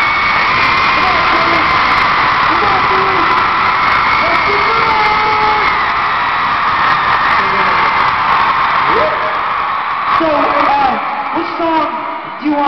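A concert crowd screams and cheers loudly and continuously, a dense wall of shrieks and whoops with individual high yells rising above it, a voice briefly heard amid the noise.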